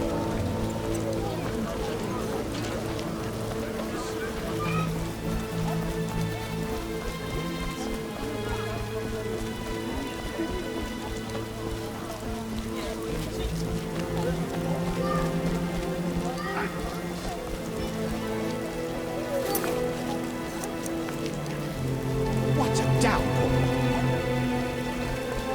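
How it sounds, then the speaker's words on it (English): Heavy rain pours down in The Witcher video game, a steady wash of falling water layered under droning music and tonal game sounds, holding near-constant loudness and swelling slightly near the end. "Rains and it pours."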